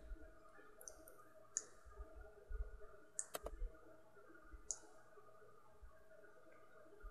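Quiet computer mouse clicks during image editing in Adobe Fireworks CS5: several sharp, isolated clicks spaced a second or so apart, with a brief cluster of rapid clicks near the middle, over a faint room hush.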